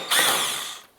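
A power tool whirs in one short burst of about a second, driving out a 7mm lower bumper screw on a Cadillac DTS, close and sharp before it winds down.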